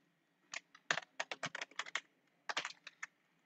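A computer keyboard is typed on while an SQL insert command is entered, two quick bursts of crisp, close key clicks separated by a short pause, with no voice over them.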